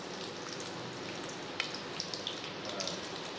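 Chopped onions frying in hot oil left from frying chicken, a steady soft sizzle with faint crackles and pops, close but quiet and alone.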